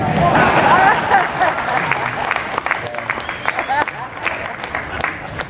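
Audience at a KISS fan expo Q&A session in Indianapolis clapping in a loose, thinning spatter of applause, with crowd murmur and voices underneath.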